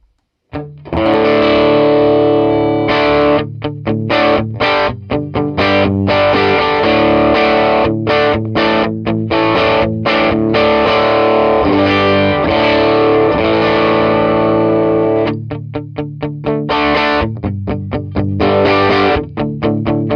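A loud, heavily distorted electric guitar through an Otis Amps Trudeau amplifier plays chunky chords with sharp stops and restarts, thick and saturated, with no voices.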